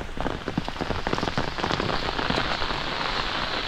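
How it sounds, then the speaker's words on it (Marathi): Heavy rain pours down in a rural village in Konkan, a dense steady hiss of drops drumming nearby surfaces, loud and continuous throughout, with no one speaking. "आणि भरपूर पाऊस लागतो आहे."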